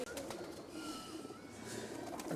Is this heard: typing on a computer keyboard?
no